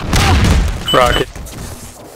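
A rocket from an RPG explodes in Half-Life 2 Deathmatch, giving a loud, close boom with a thudding low rumble that decays over about a second, followed by quieter game noise.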